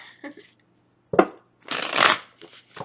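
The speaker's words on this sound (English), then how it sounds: "let's give this a good shuffle" Cards shuffled in a few quick bursts, a short riffle followed by a longer, louder flurry of snapping and rustling, close to the microphone.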